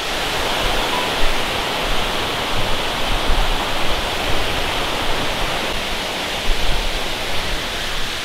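A Seoraksan waterfall on the trail between Yukdam and Biryong falls, swollen with heavy rain, roars in a steady, dense rush of falling water close by, with no voices.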